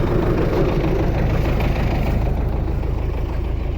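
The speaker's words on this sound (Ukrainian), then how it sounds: "Важкий культиватор, ну зато він працює." MTZ tractor engine working under load with a heavy cultivator, a loud, steady, low diesel rumble running continuously throughout without a pause.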